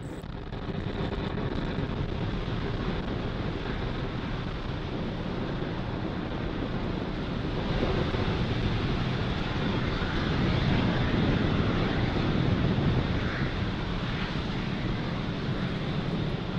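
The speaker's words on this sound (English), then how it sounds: "Falcon 9 has successfully lifted off with the SXM-8 satellite from Space Launch Complex 40" SpaceX Falcon 9 rocket lifting off from Space Launch Complex 40 carrying the SXM-8 satellite, a continuous distant roar with broad rumble that swells slightly toward the end.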